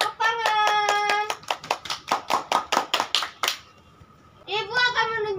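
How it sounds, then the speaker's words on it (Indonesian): Children in a primary school classroom clap in a brisk rhythmic burst of about a dozen sharp claps, with young voices chanting in tone before and after it. "Iya, tepuk tangan."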